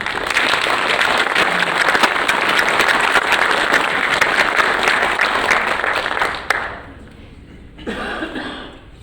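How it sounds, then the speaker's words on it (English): An audience at an athletic Hall of Fame ceremony applauds loudly and steadily for several seconds, then the clapping fades to a smaller, scattered burst. "Could we have a little applause for Dr. Ron Roddy?"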